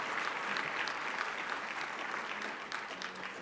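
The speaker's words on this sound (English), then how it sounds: "Yeah, clap it up." Steady applause from a breakfast audience at a leadership event, a dense wash of many hands clapping continuously, moderately distant and even in level throughout.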